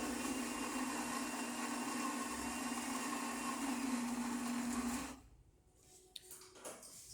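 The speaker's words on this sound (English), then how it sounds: "So now it's grinding, and it's going to start moving the brew unit into brew position." A Saeco Exprelia Evo espresso machine, freshly serviced, grinds coffee with a steady loud whirring drone for about five seconds, then cuts off and leaves quieter mechanical clicks and shuffling as the brew unit moves.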